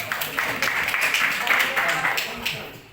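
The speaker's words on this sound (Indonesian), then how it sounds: "tepuk tangan buat Aston" A small group applauds a speaker at a dormitory leadership-training program presentation, scattered claps running steadily for a few seconds, fairly close, with faint voices mixed in.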